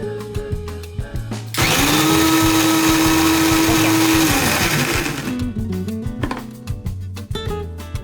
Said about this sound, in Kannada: ಹಾಗೆ ಒಂದು ಜಾರಿಗೆ 1-2 ಟೊಮೊಟೊ, ಸ್ವಲ್ಪ ಗೋಡಂಬಿ ಹಾಕಿ ಮುಚ್ಚಿ ಮಿಕ್ಸಿಗೆ ಹಾಕ್ಕೋಬೇಕು.